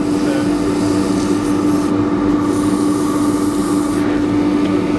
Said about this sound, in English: My hand can pull the abrasive in onto the wood.